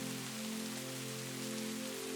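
Steady rain falling in the woods, an even wash of patter with no break and nothing else in the foreground, sitting under faint steady tones.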